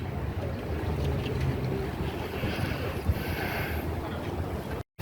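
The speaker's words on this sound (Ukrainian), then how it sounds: "Ну тут завжди вітер біля водички." Steady wind buffets the microphone with a low, continuous rumble, with faint water and open-air noise behind it.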